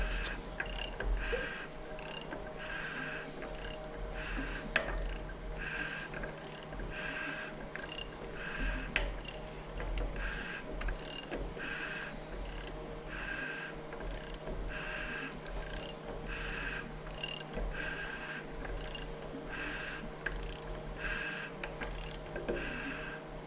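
A big block 400 engine being turned over by hand with the heads on, valve train cycling in a steady repeating ticking and clicking rhythm of rocker tips on valve stems, close up over a low background hum, no talk.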